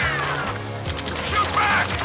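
Gunfire in the video game Ace Combat 7, a dense, steady fusillade of shots mixed with crashing impacts, heard under urgent shouted voices.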